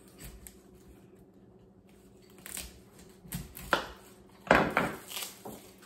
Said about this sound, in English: I'm just gonna cut off the head here.